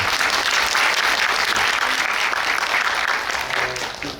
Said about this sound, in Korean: 우리 주영 배우님께도 박수 한번 부탁드리겠습니다